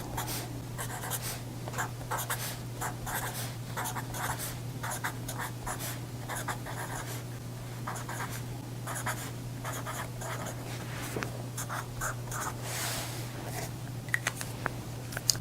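Pen or pencil scratching steadily on paper while scale numbers are written out for a quarter-scale ruler, continuous close strokes over a steady low hum, no talking.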